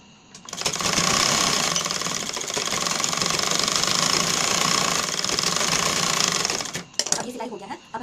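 A sewing machine runs continuously for about six seconds, stitching a waistband onto the back of a lined blouse, a steady close whirring hum that stops abruptly and leaves a few faint handling clicks.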